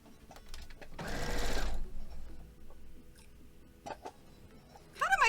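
Sewing machine stitching a quilt block: a short, loud burst of rapid mechanical stitching near the start, followed by quieter clicks and handling noises, then a brief whirring at the end.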